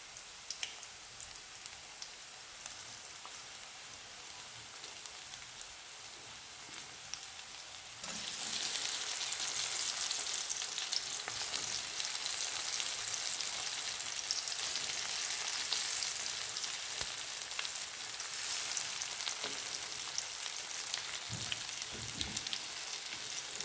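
Brinjal pieces hitting hot oil with golden-brown onions and curry leaves in a pan, a loud, steady sizzle that jumps up sharply partway through and then holds, with faint stirring scrapes and no talk.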